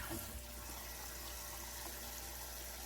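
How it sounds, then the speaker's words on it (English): A kitchen spray nozzle rinses meat grinder parts in a sink, producing a soft, steady hiss of running water that holds evenly throughout, faint and with no talking. "We're gonna rinse it out good with my spray nozzle"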